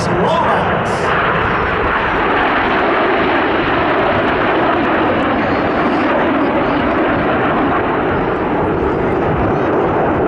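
RAF Red Arrows jets fly the rollbacks display manoeuvre at an air festival, a loud, sustained jet-engine roar that fills the whole stretch with a slowly shifting pitch as the aircraft pass, while a commentator speaks over it.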